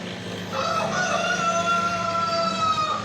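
A chicken crows along a roadside in rural Campuestuhan, one long drawn-out cock-a-doodle-doo at moderate distance over faint outdoor background noise.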